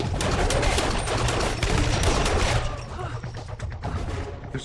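Assault rifles fire in a TV drama firefight: dense, rapid automatic bursts, loud and continuous for about three seconds, then thinning out.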